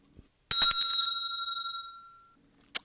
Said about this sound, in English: The bell would then indicate us for us to move forward and to start the round.